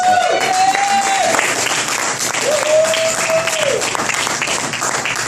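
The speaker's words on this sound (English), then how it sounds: "Give him a big round of applause" Loud applause from a dinner theater crowd welcoming a comedian to the stage, continuous clapping with two long whistled tones rising above it.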